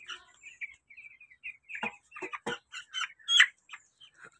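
Fourteen-day-old broiler chicks give a string of short, high peeping chirps, some soft and some louder and clustered together, close by in a quiet shed with no talk.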